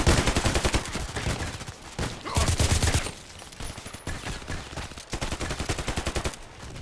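Rapid bursts of video-game gunfire from Contract Wars, loud and close, coming in several clusters of fast automatic shots with short pauses between them.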